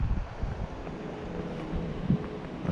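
Chilly wind blows by a creek after rain, a low buffeting rush against the microphone with faint water movement beneath, fairly quiet with a couple of stronger gusts.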